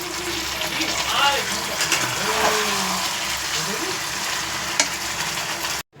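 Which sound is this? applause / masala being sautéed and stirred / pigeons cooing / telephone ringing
masala being sautéed and stirred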